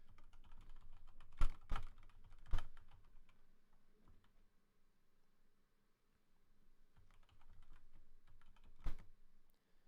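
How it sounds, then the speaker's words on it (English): Keys clack on a computer keyboard in scattered bursts, a few heavier strokes standing out, with a quiet pause in the middle before typing resumes, close and alone. "Let me type this."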